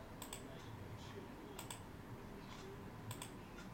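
Mouse clicks in quick succession, five in all, bringing up the serial number on a 2019 Panini Illusions NFL green dual patch autograph card of Ryan Finley and Will Grier. The clicks are faint and sharp, spaced over a steady background hiss.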